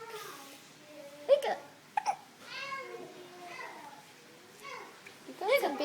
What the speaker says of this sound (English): You got some big hiccups